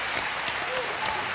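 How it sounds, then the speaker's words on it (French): A TV quiz show studio audience applauds a contestant, a brief steady wash of clapping at moderate volume with no voices over it. "C'est formidable quand même, vous pouvez l'applaudir."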